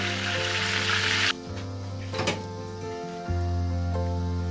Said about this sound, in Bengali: এইভাবে আমি আমার বাকি চিকেনের পিসগুলো ভেজে নেব।